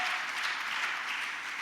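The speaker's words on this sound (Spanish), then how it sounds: "Dar un aplauso a la palabra, por favor." Church congregation applauding during a Spanish-language sermon, a steady dense burst of many hands clapping at once, loud and continuous for a moment with no talk over it.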